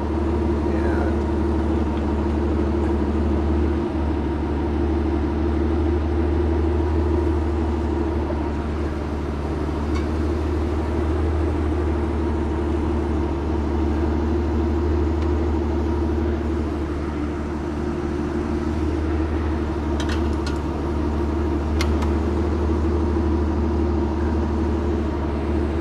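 An Aston Martin DB9 engine idles steadily and close by for the whole stretch, a continuous low rumble with no revving and no talk over it.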